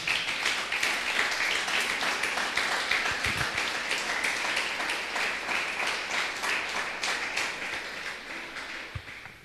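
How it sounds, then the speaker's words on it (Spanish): A church congregation applauds during a Spanish-language sermon, steady dense clapping filling the space from start to finish and tapering slightly near the end. "Dar un aplauso al Señor"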